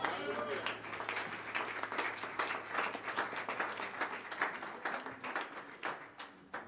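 A church congregation claps in a lively burst of applause, rhythmic claps mixing with shouts and cheering voices, gradually thinning out toward the end.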